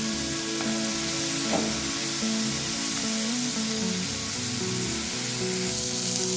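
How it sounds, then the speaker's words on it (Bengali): Small fish sizzle loudly and continuously in a hot frying pan as they are gently stirred, with the steady hiss of frying close by. "এবার অপর পিঠটাকেও একটু আলতো করে নেড়ে দিচ্ছি"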